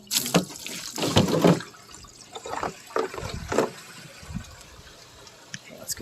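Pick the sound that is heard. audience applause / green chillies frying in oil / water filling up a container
water filling up a container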